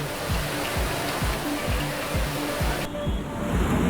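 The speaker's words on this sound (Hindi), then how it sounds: "तेज़ बहाव पानी सड़कों पर बह रहा है" Floodwater after heavy rain rushing fast through Jaipur streets, a loud, constant broadband roar of flowing water close by, with a faint rhythmic mechanical thumping underneath.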